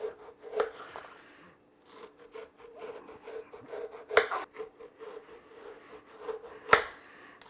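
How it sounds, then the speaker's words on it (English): A bread knife saws through frozen bacon on a plastic cutting board, heard as quiet rasping strokes with a few sharper knocks against the board, close and soft, with no talk. "Now I've got a plastic cutting board here because we're going to use a bread knife."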